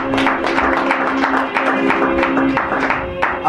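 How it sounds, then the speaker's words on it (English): A church congregation applauding during a sermon, loud continuous clapping mixed with crowd voices and a steady tonal hum underneath. "Please, a round of applause for her."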